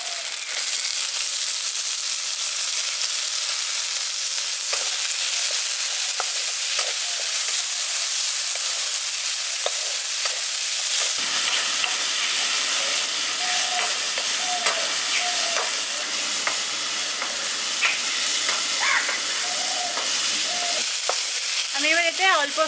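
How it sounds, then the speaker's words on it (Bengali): Chopped tomato dropped into a pan of fried onion, ginger and garlic for a village-style sea bass curry, a loud steady sizzle with scraping stirs, the hiss changing texture midway as the tomato goes in. "এবার দিয়ে দিচ্ছি 1টা টমেটো কুচানো।"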